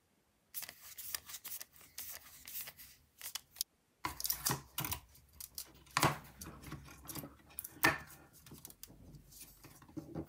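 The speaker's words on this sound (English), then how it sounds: "And then we're gonna install the screws while we're at it." Screws being fitted to a hard drive in a 2012 Mac mini, heard as small, close metallic clicks, scrapes and taps from a screwdriver and parts, scattered irregularly and fairly faint, with no talking.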